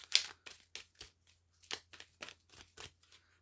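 Oracle cards are shuffled by hand in quick, quiet bursts: about a dozen short papery riffles and flicks with small gaps between them, close and otherwise silent.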